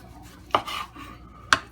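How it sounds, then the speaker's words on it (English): A knife slicing through a tomato on a cutting board while making spaghetti sauce, two sharp chopping knocks about a second apart with a soft rub between, close and alone. "I'm going to take this tomato here and I'm going to cut up a tomato."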